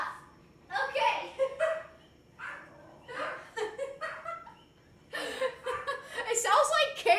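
Dogs fight indoors in a house with bursts of yelping, barking and snarling. The chaotic outbursts come in clusters separated by brief lulls and grow louder and denser toward the end.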